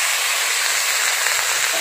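Potatoes, eggplant and flat beans frying together in hot oil give a steady, loud broadband hiss with no break and no voices.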